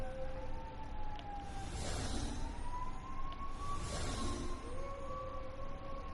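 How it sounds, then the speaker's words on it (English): A siren in the game Genshin Impact wails outside, its pitch rising and falling in slow sweeps over steady traffic rumble, heard from a distance with no talking. "The sound of sirens?"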